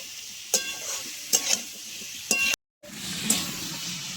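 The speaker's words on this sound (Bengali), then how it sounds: "একটুখানি এরকম 2 মিনিট মতো আমি সব কিছু একটু ভেজে নেব।" Vegetables for a fasting-day daliya pulao fry in a pan with a quiet hiss, punctuated by several sharp stirring scrapes of a spatula, with a short gap of silence midway.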